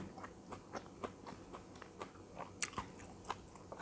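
Crispy fried fingerroot is bitten and chewed up close, a run of sharp, irregular crunches with a few louder snaps, quiet and alone without talk.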